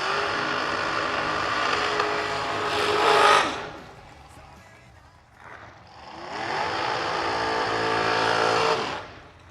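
Junior dragster engines at a drag strip rev and then roar past in two loud passes, each swelling and then fading, with a short quieter gap between them.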